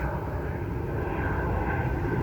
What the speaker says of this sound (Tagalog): Yun, may dumaang eroplano.